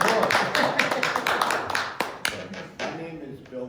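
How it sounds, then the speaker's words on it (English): Audience applause at a community meeting on the beach and climate change, a burst of scattered hand claps that thins out and fades over a few seconds. "A round of applause."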